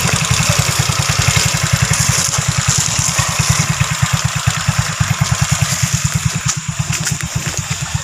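A motorcycle idles up close with a fast, even low putter and some mechanical clatter, loud and steady throughout with no talk over it.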